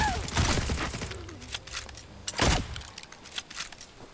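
Gunfire in the video game Redfall crackles in scattered bursts, with a loud volley near the middle and lighter shots trailing off under a speaking voice.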